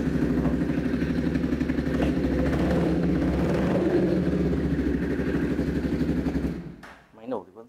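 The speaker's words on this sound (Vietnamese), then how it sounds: "Máy nổ thì vẫn rất là lực." A 1993 400cc motorcycle engine running steadily with a loud mechanical throb and clatter, then cutting out near the end before a brief faint noise.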